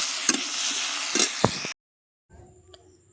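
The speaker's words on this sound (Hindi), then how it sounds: "तीन कढ़ई रे टमाटर पके टमाटर टिके फ्राई होगा" Tomatoes frying in a kadhai give a broadband hiss with a few stirring knocks, then cut briefly to silence before a quieter tonal hum.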